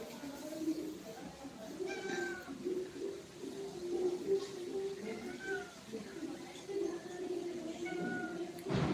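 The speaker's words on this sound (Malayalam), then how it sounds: "ലൈവ് കാണാൻ ഒരു പൂച്ച വന്നിരിക്കുന്നു" A cat meows repeatedly at close range, its cries coming every second or two amid a person talking softly.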